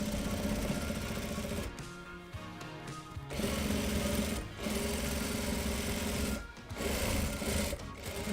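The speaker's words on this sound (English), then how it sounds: "And now we're gonna sew that. We're gonna go back and forth." A sewing machine stitches a reversible tote bag back and forth, its steady rapid whirring running in several bursts with short pauses between, close and fairly quiet.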